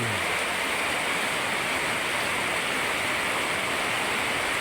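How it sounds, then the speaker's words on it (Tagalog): Heavy typhoon rain pours steadily in a dense, constant hiss, loud and close, with no wind or other sounds breaking through. "malakas lang ulan, wala akong ano, wala ulang hangin"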